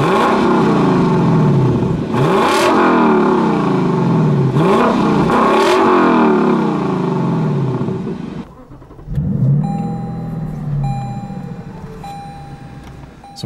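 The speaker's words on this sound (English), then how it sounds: "it sounds so good from this naturally aspirated 5-liter V8" A Lexus LC 500 with a naturally aspirated 5-liter V8 drives on the road, its engine loud and close as it revs and pulls through rising sweeps, easing off briefly before accelerating again.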